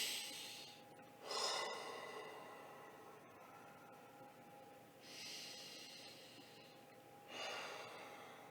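Slow deep breaths in and out during a candle-gazing meditation, several long airy inhales and exhales spaced a few seconds apart, close and soft over a faint steady hum.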